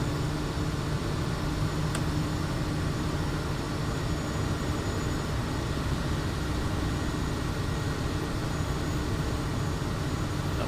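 A Kodiak 100 turboprop in MSFS 2024 drones steadily on a low approach to a runway, a constant, even engine hum with a faint whine above it and no breaks.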